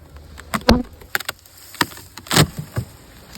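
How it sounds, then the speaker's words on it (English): Honeybees buzz around nucleus hives being readied for winter after a strong fall honey flow, with scattered close passes swelling and fading in short bursts over a quiet outdoor background. "Fair number of bees."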